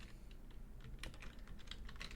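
A computer keyboard clicks as code is typed, with quiet, irregular keystrokes in short bursts.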